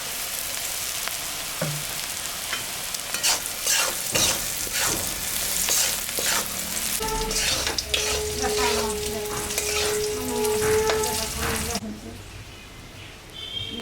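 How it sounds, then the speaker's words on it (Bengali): Onions sizzle steadily in hot oil in a pan, with close stirring scrapes and clinks of a utensil, while a voice talks intermittently and birds call faintly in the background. "পেঁয়াজটা ভাজা হয়ে গেছে"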